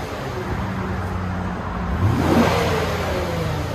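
A 2018 Lexus GS 350 with a 3.5L V6 and dual exhaust, stock muffler still fitted, idles and then revs once, swelling briefly and settling back to a low idle.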